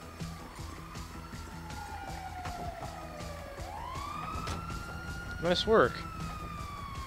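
An ambulance siren in Grand Theft Auto V wails in long rising and falling sweeps over game noise, with a brief spoken line and a loud clattering burst near the end.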